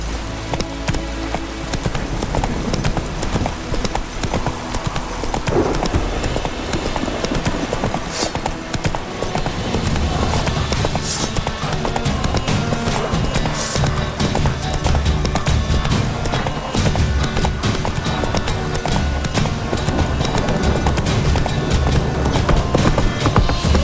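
The horse Roach clip-clops steadily across ground in The Witcher 3: Wild Hunt, rhythmic hoofbeats under ongoing game ambience and music for the full length.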